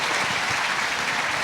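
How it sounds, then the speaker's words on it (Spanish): A church congregation applauds in a steady, dense wash of clapping that stays loud and even throughout, with no speech over it. "Le damos un aplauso al Señor."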